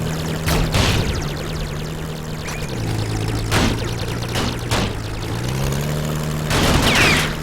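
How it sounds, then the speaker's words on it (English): Sniper and shotgun blasts from the Steambirds Alliance video game ring out as several sharp, separate shots over a steady engine-like drone, evenly loud and close. "The relative volumes of these sounds that you speak to, like that sniper sound, seems like it should not be louder than the shotgun."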